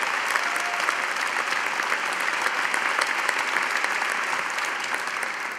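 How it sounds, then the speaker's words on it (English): A graduation ceremony crowd applauds graduates of the Department of Infectious Disease in a large hall, with steady, dense clapping throughout that eases slightly near the end. "Please join me in a round of applause."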